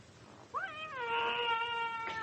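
A cat's drawn-out, wavering meow in a classic radio drama, rising and holding for over a second at moderate volume, with no talk over it.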